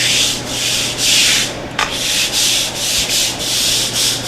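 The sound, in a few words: scrubbing cleaning solution into wooden floor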